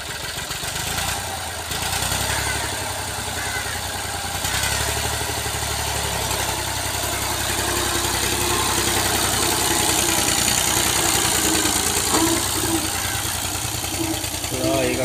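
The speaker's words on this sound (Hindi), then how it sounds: "काका मशेर अपना चैंपियन ट्रैक्टर लेके जा रहा है" A Champion tractor engine runs steadily through a guava orchard, a continuous mid-loud rumble that holds throughout while a voice talks over it.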